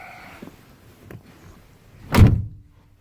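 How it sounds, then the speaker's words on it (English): The heavy door of a 1981 Cadillac Coupe DeVille swinging shut with a single deep, solid thunk after some faint shuffling, close and loud. "Doors close with a nice heavy thunk"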